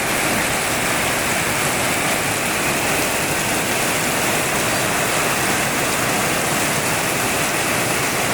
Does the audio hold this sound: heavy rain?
yes